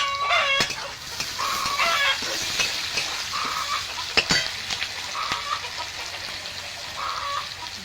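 Chopped tomato fries with onion and garlic in a pan for mutton kasha, giving a steady background sizzle while chickens cluck and call nearby over it.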